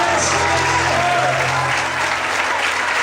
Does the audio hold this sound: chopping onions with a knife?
no